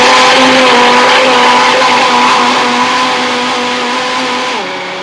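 Blender whizzing a smoothie, a loud steady motor whine held close up for several seconds, its pitch dropping near the end as it spins down.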